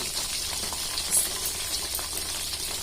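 Fish pieces frying slowly in a pan of oil for a fish pickle, a steady quiet sizzle with a faint bubbling hiss throughout and no voices.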